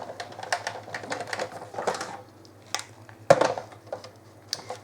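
A Big Shot die-cutting machine being cranked through a pass, giving close mechanical clicking and ratcheting in uneven bursts with one sharp clack partway through and no talking.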